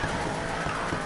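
A car drifting in the video game Need for Speed Payback, with a loud sustained tire squeal over engine roar for about a second, no talk.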